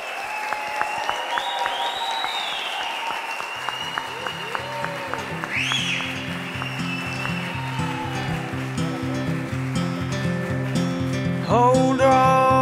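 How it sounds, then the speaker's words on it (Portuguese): Wedding guests clap for the couple's kiss, a dense round of applause rising and sustained throughout, with soft background music underneath. "Beijo do casal, com uma salva de palmas nossa."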